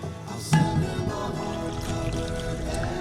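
Water, 1.5 cups, poured steadily into a container nearby for a fried-pickle batter, a soft continuous trickle following a brief clunk at the start.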